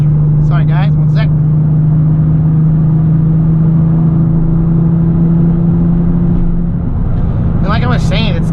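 A VR6 Volkswagen Golf GTI engine hums steadily at close range with a low droning tone, revs sluggish, briefly joined by a voice at the start and end.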